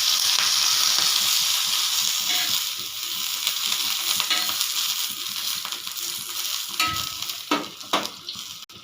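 Oil sizzles and crackles steadily in a hot pan while peanut chutney ingredients fry, with occasional stirring scrapes and a few sharper pops toward the end, close and continuous.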